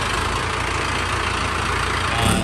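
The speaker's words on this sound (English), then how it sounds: "Looks like Ray Ray's pulling in a tractor here." A tractor engine idles and chugs in a steady, loud low drone as it pulls in, rising briefly near the end with a short surge of power.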